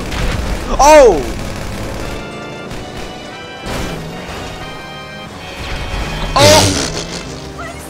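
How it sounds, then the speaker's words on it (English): Two loud grenade blasts burst out in the GTA 5 video game, spaced several seconds apart, the second bigger, with a rumbling crash between them while a player yelps over the action. "I had a grenade and I was throwing them"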